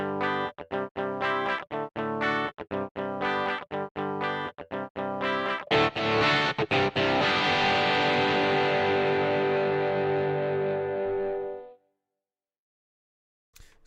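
An electric guitar played through a Guitar Rig amp simulator with distortion: a run of choppy, sharply muted chord stabs, then a sustained ringing distorted chord that fades out abruptly, with nobody talking.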